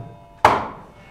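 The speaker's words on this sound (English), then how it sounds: "there are also some strokes on the left side of the drum, which is known as the bass. It would sound like this." One deep bass stroke struck on the left head of a mridangam, close and fairly loud, with a sharp attack and a decaying low boom, no speech.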